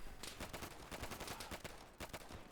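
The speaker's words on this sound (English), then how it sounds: "I've got an MG34 blazing overhead here, lads." MG34 machine gun fire in the Easy Red 2 World War II game, rapid bursts of shots cracking overhead in uneven clusters, fairly faint and distant, with no speech.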